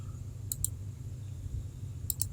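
Two quick double clicks of a computer mouse while editing document properties in a Microsoft Excel workbook, sharp and close against a low steady hum, with no talking.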